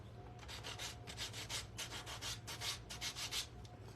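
Sandpaper rubbing over a painted gourd in quick, steady back-and-forth strokes, a soft rasping scratch repeated about a dozen times, close and quiet with no voices.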